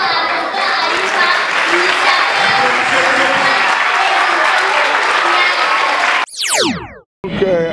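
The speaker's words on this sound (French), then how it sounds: "je vous demande d'applaudir très fort à Dr Ayuba" Audience applause for Dr Ayuba at a school year-end festival in Niger, a dense, steady wash of clapping from a large crowd lasting about six seconds before cutting off, followed by a brief burst of other sound.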